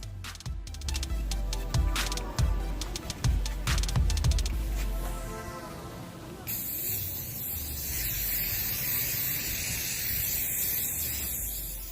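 Spray paint coats a craft piece in a Dollar Tree pumpkin and succulent arrangement project; handling knocks and rattles come first, then a long steady close hiss of spraying runs to the end.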